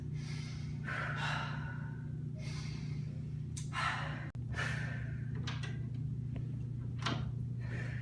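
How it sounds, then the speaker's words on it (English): Several slow, deep breaths drawn in and let out during calming practice before a job interview, each a soft airy rush, over a steady low hum with no talking. "Just take a few deep breaths."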